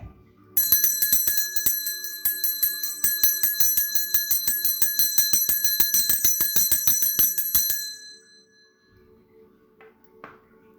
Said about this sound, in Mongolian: Хонхоо дуургая.